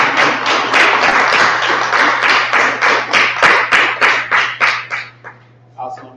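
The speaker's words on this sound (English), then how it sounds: "Let us receive him with a round of applause." Audience applause for a speaker being welcomed to the stage, a dense crowd of claps filling the room with loud, rhythmic swells that fade near the end into a few scattered claps.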